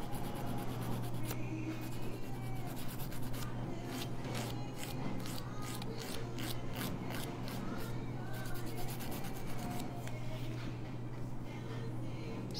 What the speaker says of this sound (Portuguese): Vou pegar minha lixa fininha e vou arrumar essas laterais agora